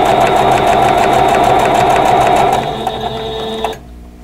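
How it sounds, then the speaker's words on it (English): Sewing machine stitching a quarter-inch seam through quilt fabric, a steady fast whirring drone close up that slows and stops near the end. "And sew with my quarter inch seam allowance."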